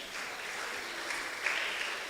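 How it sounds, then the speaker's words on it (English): An audience at a commemoration event held at an international venue in Akosombo claps after a presentation, giving a steady, moderately faint patter of many hands that swells slightly toward the end, with no talking over it. "Let's clap for her."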